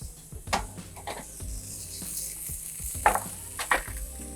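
Steak searing hard in a hot pan for a steak sandwich: steady sizzle with a few sharp clanks and scrapes of the pan, no talking.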